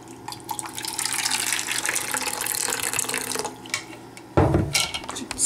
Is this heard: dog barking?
no